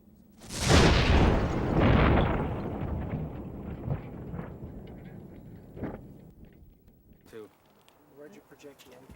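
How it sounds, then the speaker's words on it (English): A small pipe bomb packed in a cardboard carton detonates beside a car: one loud, close blast followed by a long rumbling decay and scattered rattling, with a voice afterwards. "This explosion was so powerful that part of the cardboard carton pierced the car's steel door."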